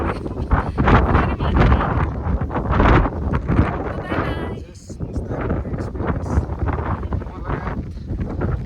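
Strong mountain gusts in Mustang buffet the microphone in loud, rumbling bursts while people talk underneath.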